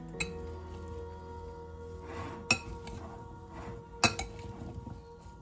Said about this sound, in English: And then we're just going to mix everything.